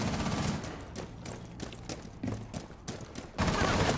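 Shotgun gunfire in a ranked online shooter video game: several loud, sharp blasts crowd together in quick bursts with short gaps, ending in a heavier volley, with no talk over them.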